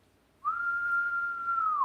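A person whistles one steady, clear, sustained note that holds for over a second before it bends slightly downward at the end, alone and close.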